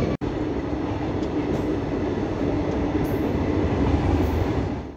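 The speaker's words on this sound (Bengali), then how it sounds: "আর ট্রেন ব্রহ্মপুর ছেড়ে এগিয়ে চলেছে" The Amravati Express rolls on after leaving Brahmapur with a steady, loud rail rumble and wagon roar, a sharp knock near the start and faint wheel hiss throughout.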